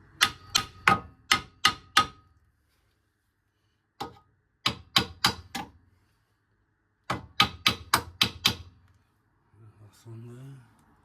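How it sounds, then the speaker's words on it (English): A hammer gun works on the crash-damaged bodywork of a 2017 VW Scirocco R Line, firing in sharp rapid bursts of five or six blows separated by pauses, loud and close, with brief talk at the end. "there's the trusty hammer gun."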